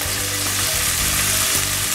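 Fresh fava beans sizzle loudly and steadily in a hot pan, a dense continuous hiss with no talking.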